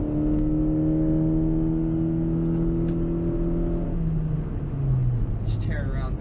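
A Volkswagen car driven fast along back roads on a dreary day, its engine droning steadily and loudly close by with in-cabin rumble, the pitch easing off and dropping toward the end as it slows.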